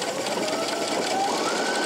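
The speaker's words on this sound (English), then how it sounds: "I'm gonna just sew up to that point." A Baby Lock Presto 2 or Brother Pacesetter PS500 sewing machine stitches steadily, its motor whirring loud and close with a fast, even needle rhythm throughout.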